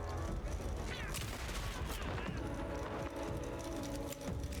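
Rapid gunfire in the video game Alan Wake 2, dense bursts of shots overlapping in a busy, loud fusillade with thuds and impacts throughout.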